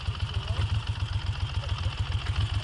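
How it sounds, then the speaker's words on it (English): A 1982 Moto Guzzi 850 Le Mans Mark III V-twin idles with a steady, lumpy low-pitched exhaust burble and a fast rhythmic pulse, with faint tappet ticking on top, close and continuous. "Those tappets just tapping away happily. And that deep burble of the exhaust is just lovely"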